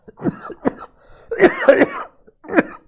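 Several coughs in short bursts from a man with allergies, close and fairly loud, with pauses between them and a final cough after a gap.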